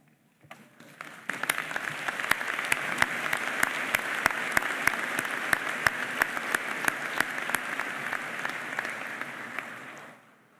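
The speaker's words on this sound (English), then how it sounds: "let us give you a round of applause" Sustained applause from a large audience at a Citadel commencement ceremony honoring alumni presenting diplomas, a dense, steady wash of many hands clapping for about ten seconds before fading out.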